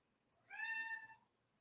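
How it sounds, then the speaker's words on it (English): A domestic cat gives a single clear meow, about a second long with a rising then falling pitch, close by and alone in an otherwise quiet room. "that's my kitty, meow."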